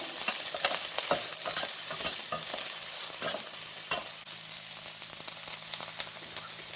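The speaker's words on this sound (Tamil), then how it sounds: "வெங்காயம் போடுறாங்க" Onions frying in hot oil with green chillies and curry leaves for kondakadalai sundal, with a constant close sizzle and frequent spatula scrapes against the pan.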